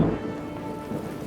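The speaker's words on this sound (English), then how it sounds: "I'm sorry about the rain." Rain falling outdoors during a mass dog walk event, a steady, dense hiss of drops with a low rumbling undertone throughout.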